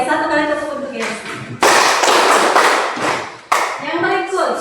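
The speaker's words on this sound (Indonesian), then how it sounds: "Oke, satu kali tepuk untuk Gensa." An Indonesian classroom gives a single round of clapping for a student, with two sharp bursts of hand claps between stretches of teacher and pupil talk.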